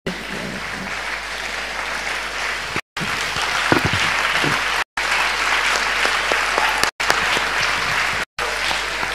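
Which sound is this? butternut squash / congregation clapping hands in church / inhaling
congregation clapping hands in church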